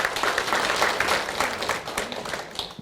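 An audience at a colloquium applauds, a steady patter of many hands clapping at moderate loudness, slowly tapering over a few seconds.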